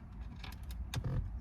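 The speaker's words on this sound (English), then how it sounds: "So I'm gonna remove a couple of screws." Star screws are worked out of a Nissan car radio unit: a few brief metallic creaks and small clicks from the screwdriver, close up, with no talking.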